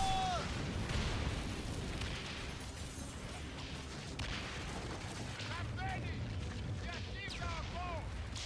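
Naval cannon fire from ships in the pirate video game Skull and Bones, dull distant booms and bursts under a dense battle din with shouting voices and whistling tones, fairly faint overall.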